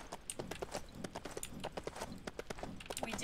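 Horse hooves clip-clop in a steady, rapid rhythm while riding in the Lego Lord of the Rings video game, moderately close and fairly even in loudness, with game effects mixed in.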